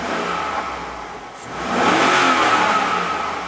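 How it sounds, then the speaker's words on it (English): A 2003 Chevy Tahoe LS with a 5.3L LM7 V8 and 185K miles revs up loud and close. The engine hums steadily, dips briefly, then climbs into a stronger, sustained rev with no talking. "We'll give it a couple revs, see how it sounds."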